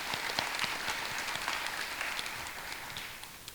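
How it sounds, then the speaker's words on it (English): An audience at a regional spelling bee applauds, producing a dense patter of clapping that fades slightly toward the end, heard indoors at moderate distance. "let's give them all a round of applause"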